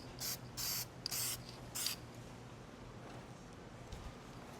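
Four short bursts of aerosol spray paint hiss in quick succession onto a guitar body, close and crisp, followed by quiet room tone.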